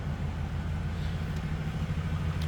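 The 5.7 liter V8 of a 1994 Cadillac Fleetwood Brougham idles nearby with a deep, steady, throaty rumble that holds an even pulse throughout.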